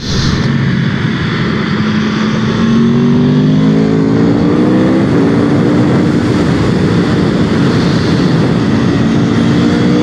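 Aprilia RSV4 Factory superbike (2021) ridden on the Misano circuit, its engine note loud and continuous, rising steadily through the revs with a sweeping, climbing whine as the bike accelerates along the track.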